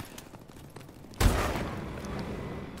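Turret gunfire in a video game: one sharp, loud blast opens a sustained, dense stretch of rapid firing that stays close and steady, with no voices.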